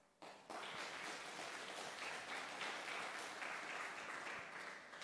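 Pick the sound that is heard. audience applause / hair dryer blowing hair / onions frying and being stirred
audience applause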